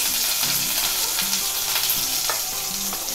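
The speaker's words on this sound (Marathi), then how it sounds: "कढीपत्त्याची पानं घेतलंय मी, ती घालतोय. लसणीचे 2 पाकळे चिरून घेतलंय" Curry leaves and chopped garlic crackle in plenty of hot oil for a Malvani-style bangada fish curry, a loud, steady close-up sizzle with occasional spoon scrapes.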